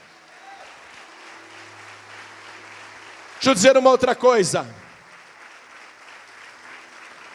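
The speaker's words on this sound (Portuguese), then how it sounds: "Oh glória, vamos aplaudir mais" A church congregation bursts into applause for about a second and a half, loud and dense, between stretches of a man's amplified speech in a reverberant hall.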